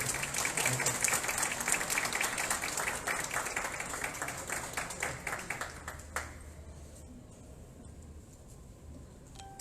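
A roomful of people claps steadily for several seconds at a book presentation, welcoming a speaker, then the applause fades out, leaving quiet room tone.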